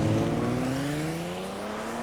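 A 375-horsepower Hyundai Genesis sedan accelerates hard, its engine note rising steadily as it pulls away, loud and close at first and easing slightly, with no speech.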